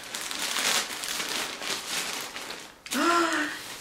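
A blade slices open a package holding a sweatshirt. Crinkly plastic and paper rustle sounds up close for a few seconds, then a short excited voice cuts in at the end.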